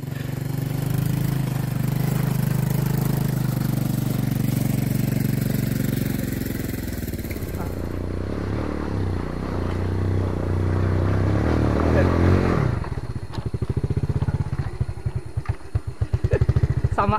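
A motorcycle strains through rough forest terrain, its engine droning and labouring close by, then revving in uneven bursts with clattering toward the end, as if losing power on the difficult ground.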